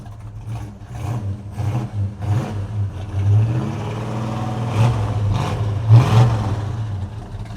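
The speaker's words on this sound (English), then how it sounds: "Good sounding dual exhaust, coming from the numbers matching 383 4-barrel engine" A 1970 Plymouth Sport Satellite with a numbers-matching 383 four-barrel V8 and dual exhaust rumbles at idle nearby, punctuated by several throttle blips that swell and fade, with no talking.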